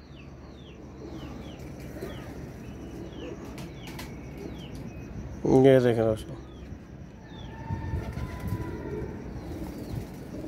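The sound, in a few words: pigeons flapping wings and cooing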